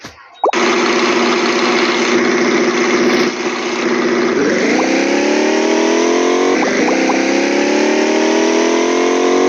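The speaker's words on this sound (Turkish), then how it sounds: "Of yarışlı arabayla oynayacağız." Racing car engine in a steering-wheel driving video game, droning loudly and steadily, then revving upward in rising pitch sweeps around the middle and again near the end, with no talking.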